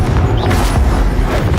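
A Confringo fire spell explosion in the video game Hogwarts Legacy, a loud, deep rumbling boom with a crackling tail that stays heavy and steady for the whole moment.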